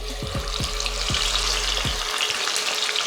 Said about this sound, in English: if your wings don't start sizzling like this, then your oil's not hot enough